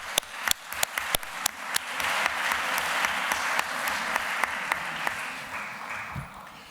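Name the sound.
audience applauding the translators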